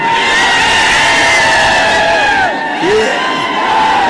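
A large crowd at a Maratha community rally in Dharashiv cheers and shouts continuously, a loud dense roar with rising whoops and calls throughout, no single voice standing out.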